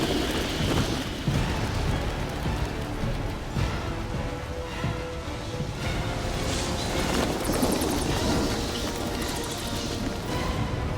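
A severe winter storm rumbles in Batman: Arkham Origins, steady rain and wind under low thunder, a continuous dense wash with no clear gaps.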